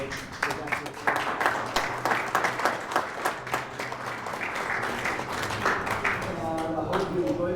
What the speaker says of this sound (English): They got a little round of applause for them today.